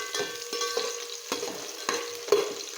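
Onions sizzle in oil in a pan for vegetable biryani while being stirred, soft frying crackle under repeated scraping strokes of a spoon every half second or so, close and moderate.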